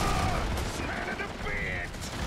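Rapid gunfire bursts from an online shooter game, dense and continuous across the moment, mixed with battle noise and faint voices underneath.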